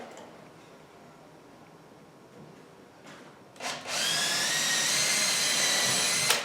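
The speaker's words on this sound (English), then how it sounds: "Here's where you want to do a pre-drill, so you don't split the leg." Power drill pre-drilling a wooden folding-table leg, a few quiet handling noises, then a loud whirring bite into the wood that holds steady for several seconds.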